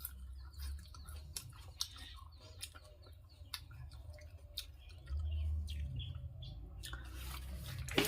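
Someone chews fresh home-grown coriander leaves, producing faint, close, irregular crunchy clicks over a quiet low background hum, with no talking.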